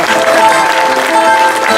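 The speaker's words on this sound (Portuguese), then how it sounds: "se levantem e deem palmas ao grande José" Audience applause at a traditional Portuguese cantoria desgarrada singing contest at the Festa dos Altares, a dense burst of close clapping from the crowd that stays loud and steady for the whole short moment.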